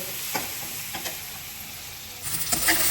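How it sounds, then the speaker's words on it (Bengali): Spiced prawn masala sautéing in oil as it releases from the paste, a steady close sizzle and hiss with a few soft stirring scrapes that swell toward the end. "আমার কষানো প্রায় হয়েই গেছে তেল বের হয়ে আসছে"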